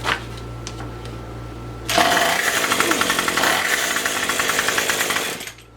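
Gas line trimmer engine fires up after a recoil pull-start and pawl replacement, then runs loud and buzzing for several seconds before winding down, following a quieter background hum.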